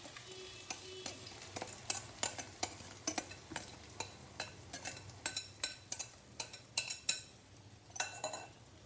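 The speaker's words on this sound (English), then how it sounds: "And fry the mixed ingredient" A tomato and shrimp omelet mixture frying in a pan over medium heat, with a constant soft sizzle under repeated clinks and scrapes of a utensil stirring against the pan.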